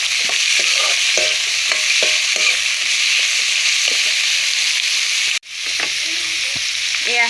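Mango pieces sizzle in a pan with onions while a spoon stirs them, giving repeated scraping strokes over a constant bright frying hiss, briefly cut off once before the sizzle and stirring resume, close up with no talking.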